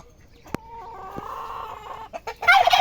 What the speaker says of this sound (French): Ouais, c'est cette poule là.